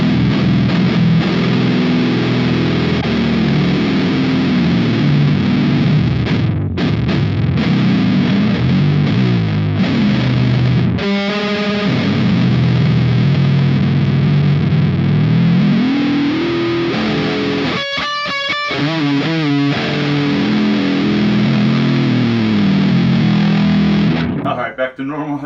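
A heavily distorted 8-string guitar played through an amp plugin with a transpose effect chugs and slides continuously and loudly, its pitch shifting up and down, with brief gaps and stuttering bursts.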